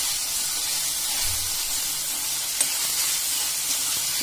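Prawns, blanched in hot water beforehand, fry in a pan for a simple prawn masala, giving a steady, close hiss of sizzling oil with a soft low thump near the start and no talking.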